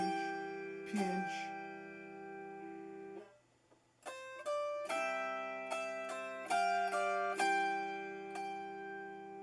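Autoharp played by mixing single finger plucks with stretch pinches, bright plucked strings ringing in an uneven pattern, a brief pause in the middle, then a run of overlapping sustained chords.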